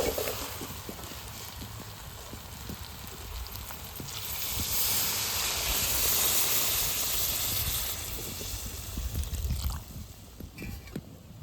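Water poured onto browned meat in a pot at an outdoor village-style picnic gives a broad hissing rush of steam that swells for several seconds, then subsides, with faint voices and background noise around it.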